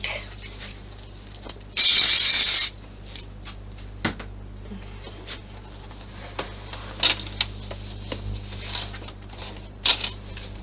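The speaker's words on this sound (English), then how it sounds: "Put a bit of spray on that bit, I think." A single loud burst of aerosol spray hisses for about a second onto fabric for a clutch bag, followed by quiet clicks and small handling noises.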